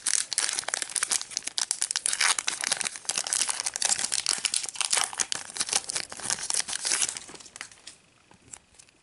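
Foil wrapper of a Pokémon trading card booster pack being torn open, a dense close crinkling and crackling that runs steadily and loud for most of the span before easing off near the end.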